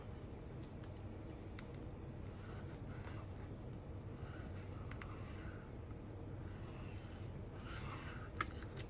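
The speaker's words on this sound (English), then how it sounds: "So just a scrap of paper scored in the middle," A scrap of paper being scored down the middle for a card hinge, a faint close scratching and rubbing that continues steadily with soft scrape accents.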